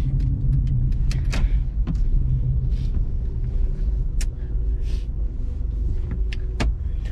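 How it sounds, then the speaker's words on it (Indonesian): A car being parked, with a low, steady engine rumble and scattered clicks and knocks from inside the cabin. "bentar dulu, gue parkir dulu."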